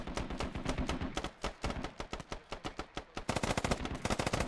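A Squad firefight: rapid automatic gunfire bursts out in sharp, close, rhythmic volleys with short pauses, while tracers whip past and the shooting intensifies into a faster stream near the end.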